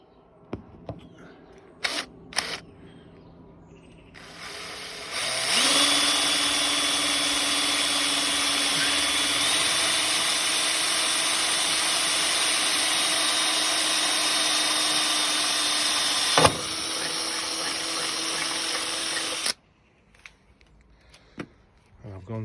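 A power drill with a 4mm bit bores a hole during a safety door strap install on an M38A1 jeep, a steady close whine lasting about fourteen seconds after a few clicks and handling knocks, then stopping.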